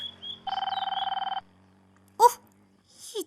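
A home landline telephone rings in one short burst of rapid warbling trills, clear and close against a quiet room, followed by a couple of brief knocks and rustles.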